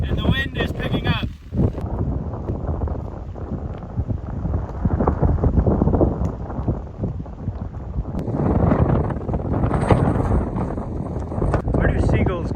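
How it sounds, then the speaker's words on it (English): Gusty wind builds in stormy, wet weather by the sea, roaring in uneven surges that buffet the microphone, loud and close throughout, with a voice speaking over it. "Seems to be a little wet outside, and the wind is picking up."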